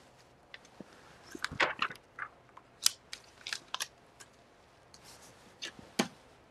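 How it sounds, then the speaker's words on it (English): Small wire cutters snipping during card-making crafts, a string of sharp, close clicks and snaps in irregular bursts against a quiet room. "I'm going to get my little wire cutters"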